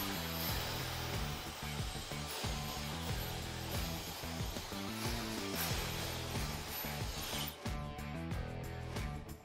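Hair dryer blowing on a man's hair during a fade haircut, a steady loud whooshing roar with shifting airflow as the dryer moves, brief combing rustles, no speech.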